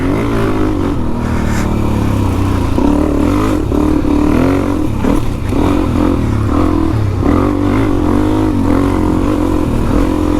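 Suzuki DRZ 400E dirt bike ridden along a bush trail, its engine droning loud and close throughout with shifting revs, plus wind buffeting and rattling over rough ground.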